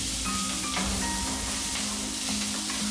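Carrots, onions and celery sizzle gently in a pan, a steady close frying hiss with faint stirring clicks throughout, no talk.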